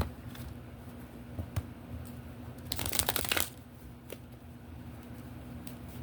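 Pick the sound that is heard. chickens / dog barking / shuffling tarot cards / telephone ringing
shuffling tarot cards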